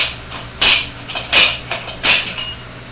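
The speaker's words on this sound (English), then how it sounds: "We'll just use the peg as a slide hammer." A footpeg used as a slide hammer on a crashed Honda Grom wheel gives four sharp metallic knocks, close and loud, in an uneven rhythm with brief ringing after each strike.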